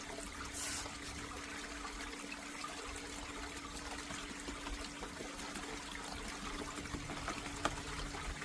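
River sand and water pour and trickle steadily into a gold sluice topped with a mini mat and splash tray, a continuous quiet wash of liquid with a faint steady hum beneath.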